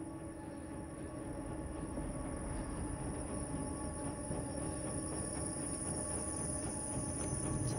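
A small train rolls past in the game Inside, giving a steady, continuous rattling rumble of wheels on rails that holds throughout and swells slightly louder toward the end, with no voices.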